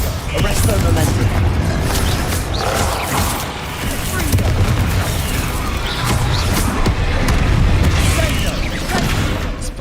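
Spells cast in the video game Hogwarts Legacy, including a Bombarda blast, as repeated booms, crashes and magical bursts in loud continuous combat, with a voice talking over the action.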